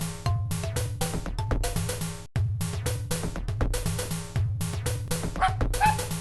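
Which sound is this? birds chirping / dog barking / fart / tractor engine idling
dog barking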